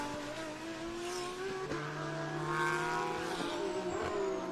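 A KTM race car at speed on a racetrack, its engine a tonal drone that rises and shifts in pitch as it passes, with a brief sharper whine and moderate distance.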